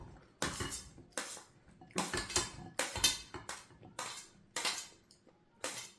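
Utensils toss a salad with tomato salsa in a bowl, giving repeated bursts of clattering, scraping clinks in an uneven rhythm, close and moderately loud with short quiet gaps between strokes.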